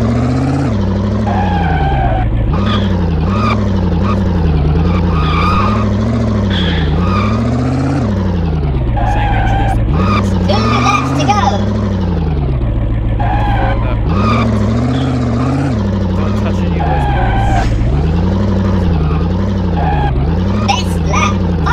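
A car in the racing video game Buzzing Cars revs and slides through handbrake turns, its engine tone climbing and dropping in repeated sweeps, loud and continuous with no break.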